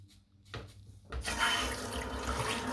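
A barbershop tap runs water into a basin, opening with a few splashy bursts before settling into a loud, continuous gush that fills the rest of the moment.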